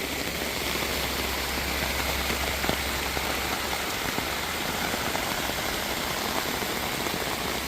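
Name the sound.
heavy rain during flood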